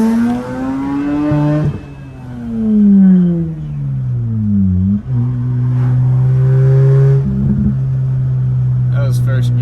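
A Mazda RX-8 rotary engine revs through a full-throttle first-gear pull, its loud buzzing note climbing and dropping in pitch several times, close and prominent.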